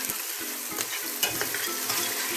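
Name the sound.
onions sauteing in olive oil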